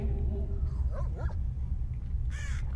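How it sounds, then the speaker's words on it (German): Dogs in the video game Stalker give a couple of short, sharp barks or yelps at a distance over a low, rumbling game ambience. "Ich höre die blöden Hunde."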